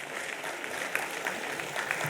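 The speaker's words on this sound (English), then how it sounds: "Can we have a huge round of applause for all the people on the dais?" Audience applause for the people on the dais at an accountants' convention, a short burst of dense, steady clapping from a crowd that holds even throughout.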